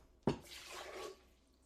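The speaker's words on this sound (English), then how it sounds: "So I'm gonna start with a cup of water" Water poured into a cup in a kitchen while making salad dressing, a short splashing pour that starts with a sharp onset and trails off after about a second, fairly quiet and with no talk.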